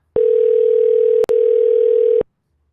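A telephone emits a steady single-pitched tone while dialing extensions, one long beep broken by a brief click-like gap, then resuming before stopping; alone and loud.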